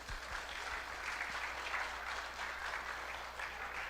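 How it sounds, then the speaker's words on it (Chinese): An audience at a church Christmas evening party applauds steadily, a broad even wash of many hands clapping at moderate level from start to finish, with a few low thumps early on. "我们为他们掌声鼓励鼓励"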